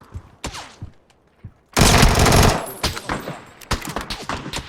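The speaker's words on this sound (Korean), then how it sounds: "누가 쏜다" Automatic gunfire in PUBG, with sparse clicks and single shots before a loud sustained burst, followed by more scattered rapid shots.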